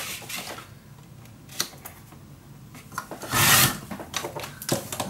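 Paper being cut for a handmade box mini album, quiet scattered scraping and rubbing strokes with one louder brushing burst partway through, close and soft, no talking.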